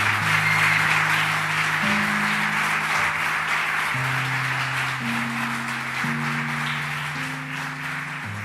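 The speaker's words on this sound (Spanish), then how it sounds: "te despedimos con este aplauso" A church congregation applauds at the close of a sermon, a steady hiss of many hands lasting several seconds over sustained keyboard chords that shift every second or so.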